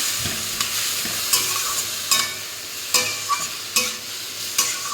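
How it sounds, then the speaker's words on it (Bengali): Ash gourd curry with green chillies sizzles steadily in a pan while a spoon stirs it, scraping and tapping at a regular pace throughout, with no one speaking. "ভালো করে মিশিয়ে নেব"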